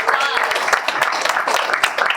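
An audience applauds the speakers of a home ownership solutions panel at a Dallas Habitat event: dense, steady clapping over about two seconds, with a voice briefly mixed in at the start.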